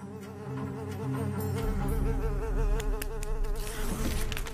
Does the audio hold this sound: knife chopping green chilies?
no